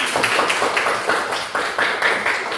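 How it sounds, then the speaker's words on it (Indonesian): Students in a classroom applaud a classmate with rhythmic group clapping, loud and close, the claps falling into a regular pulsing beat of roughly four bursts per second. "tepuk tangan untuk Andi"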